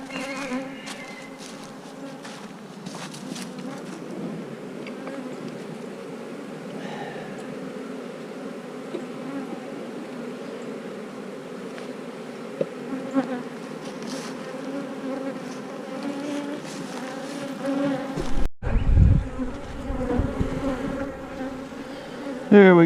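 Honeybees swarm around an open hive as frames of brood are handled, producing a dense, steady, close buzz that fills the whole stretch, with a brief rustle and knock near the end.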